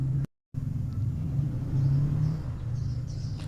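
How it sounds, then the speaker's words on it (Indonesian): A motorbike engine rumbles steadily and fairly loud as it approaches, swelling slightly in the middle, after a brief gap of silence near the start. "Tiba-tiba aku mendengar suara motor mendekat."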